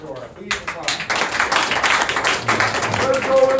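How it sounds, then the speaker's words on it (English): An audience at a Certamen competition claps steadily, with scattered hands in a room and voices over the applause. "Please applaud."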